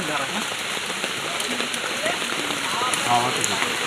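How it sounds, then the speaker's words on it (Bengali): Heavy rain pours at a Ganges bathing ghat, a dense steady hiss of drops on water and stone that continues without a break, with faint voices mixed in beneath it. "জোর বৃষ্টি নেমেও গেছে"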